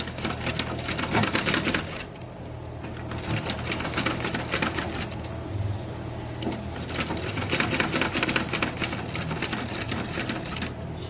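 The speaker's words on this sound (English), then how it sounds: "So I'll just be sewing here." A sewing machine runs in bursts, stitching 1/8 inch from each side of a slit neckline down to its base; the steady mechanical whir pauses briefly twice, with no talk.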